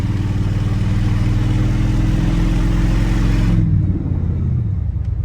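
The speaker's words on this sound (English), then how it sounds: "Exhaust sounds great." A rough, low engine rumble from a 1988 Ford F-150 pickup, throaty exhaust droning steadily under load going uphill, then dropping off abruptly as the throttle eases.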